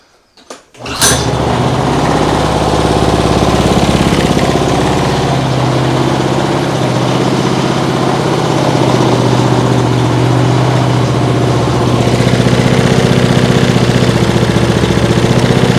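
Lawn mower engine rigged as a boat outboard motor starts with a quick burst, then runs steadily and loudly for the rest of the time, a coarse droning idle with a constant vibrating rattle from the shaking mount.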